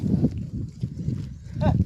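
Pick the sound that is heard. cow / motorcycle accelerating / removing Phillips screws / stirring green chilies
cow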